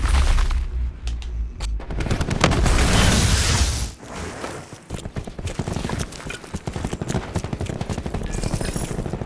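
A loud explosion bursts as a Seeker is destroyed in Call of Duty: Black Ops 4, followed by dense rapid gunfire and clattering impacts that keep going close and loud.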